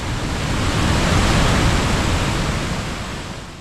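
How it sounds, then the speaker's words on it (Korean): Bidulginang waterfall in Yeongbuk-myeon, Pocheon, swollen after heavy rain: a steady, loud roar of falling water, broadband and continuous, swelling slightly and then easing, with no voices. "다음은 경기도 포천시 영북면에 있는 비둘기낭 폭포입니다."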